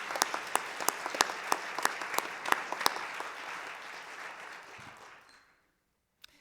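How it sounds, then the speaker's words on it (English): An audience gives a round of applause at a community event, with sharp, loud individual claps punctuating a dense crowd clapping that gradually fades to silence after about five seconds. "I just want to give a round of applause"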